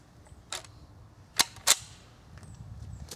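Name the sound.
old .22 rifle shot at target with open sights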